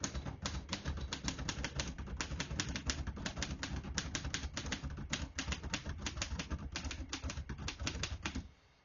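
A 1947 Royal Quiet De Luxe portable typewriter typed on at a brisk, steady pace: close, crisp keystrokes in a dense, continuous rattle that stops abruptly just before the end.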